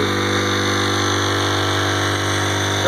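A Honda Civic R18 1.8-litre engine with a T3 turbo, SDS EFI and a Viking aircraft PSRU gearbox, with no propeller fitted, runs on a test rig as a loud, steady, unbroken drone with a constant low hum.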